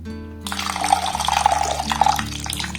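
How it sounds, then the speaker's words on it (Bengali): Sago pearls rinsed in cold water in a bowl, a close splashing and swishing of water that starts abruptly and churns steadily with small drips, no voices. "এইভাবে প্রথমে একটু ঠান্ডা জলে ধুয়ে নিতে হবে"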